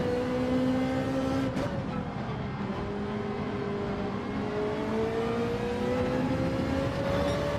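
A race car engine in a racing video game is held at full throttle, a loud steady drone whose pitch climbs slowly after a brief dip, with no talking.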